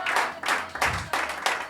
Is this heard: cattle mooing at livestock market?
no